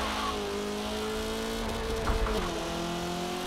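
Engine note of a car driven in the racing video game Forza Motorsport 7, a steady, fairly loud droning hum whose pitch holds and then drops slightly, with a brief louder rasp near the middle and no talking.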